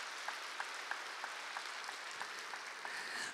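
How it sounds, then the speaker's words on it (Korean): A church congregation applauds newly registered members during a Sunday morning service, steady clapping from a large room heard at a moderate distance, with no one speaking over it. "박수로 환영하도록 하겠습니다."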